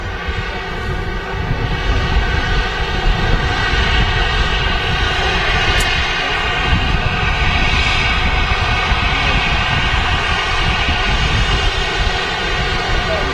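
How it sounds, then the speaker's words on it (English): A United Nations–registered EasyJet airliner at Manchester Airport gives a continuous loud engine roar that holds steady throughout, with a brief high click partway through. "It's the United Nations aircraft."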